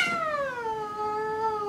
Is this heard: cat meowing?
yes